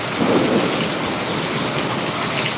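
Heavy rain with hail pours in a dense, steady hiss in Jamkandorna, Rajkot district, while a low rumble of thunder rolls through at the start.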